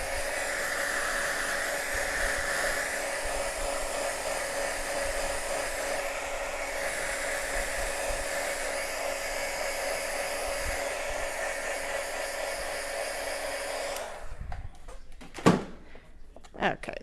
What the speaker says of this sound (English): Let's just set it with my heat gun real quick just to be on the safe side.